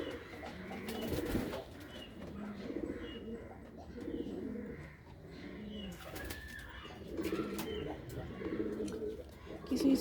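Pigeons at a pigeon farm coo in soft, repeated low calls with occasional chirps and a brief wing flap, fairly faint, while people talk quietly nearby.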